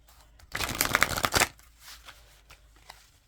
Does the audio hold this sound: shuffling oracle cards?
yes